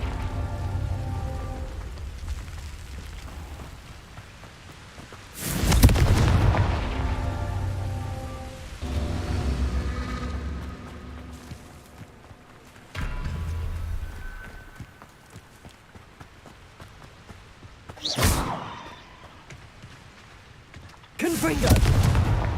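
Confringo blasting-spell explosions in Hogwarts Legacy, several sharp blasts spaced a few seconds apart over a continuous rumbling, rain-like game ambience.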